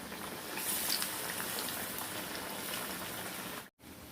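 Lentil vadas frying in hot oil, a continuous fine crackling sizzle at moderate level, steady throughout with a brief dropout near the end.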